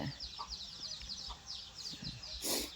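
Chickens cluck repeatedly while feeding at a rural farmyard, giving short, fairly close calls with a soft, steady background hum and scattered small noises.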